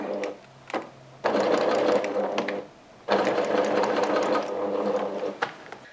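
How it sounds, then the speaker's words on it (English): A sewing machine stitches a 1/4 inch seam on a tote bag in short runs, two sustained bursts of rapid whirring with brief pauses, close and clear. "Just going to sew that over now with a 1/4 inch seam."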